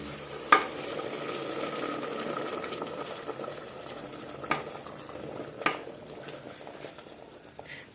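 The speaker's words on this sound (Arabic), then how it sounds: "دابا غادي نرويو بالماء سخون" Hot water poured into a sizzling pan of Moroccan tqliya stew, with a steady bubbling, frying hiss and a few sharp clinks of a utensil against the pot.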